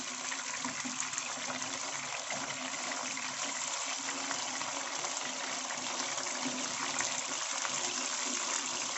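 Tandoori chicken fries in hot oil in a pan, giving a steady, dense, even sizzle and hiss throughout, close and fairly quiet, with no voices.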